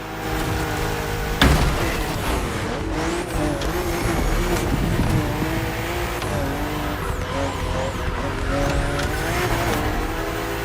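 BMW M2 and M4 race cars in The Crew Motorfest thunder along a narrow, twisty road course, engines revving and droning continuously with tire squeal, a sharp impact or skid near the start, and shifting pitch through the bends.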